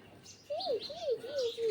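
A few house sparrow chirps near a nest with chicks, three wavering calls in quick succession, fairly faint with soft background noise.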